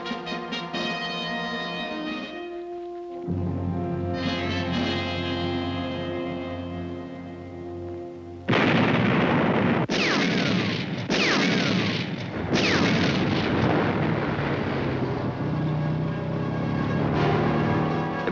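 Wartime gunfire and artillery from a Normandy combat film: a sustained tone gives way to sharp, echoing cracks and booming blasts that come in loud, reverberant bursts, near and overlapping.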